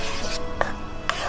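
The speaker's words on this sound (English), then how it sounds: "stirring it in." A spoon stirs washed kidney beans into a pot of vegan chili, giving two or three short scraping and clinking strokes over a soft wet background, close by and without talk.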